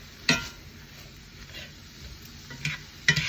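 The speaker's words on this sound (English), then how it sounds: "We're going to go ahead and let that cook down quite a bit so the zucchini is pretty well dissolved almost in it" A zucchini and meat mixture cooks down in a pan with a soft, low sizzle, broken by a few sharp clicks and taps of a utensil against the pan.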